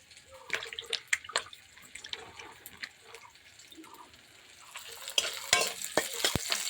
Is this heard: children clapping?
no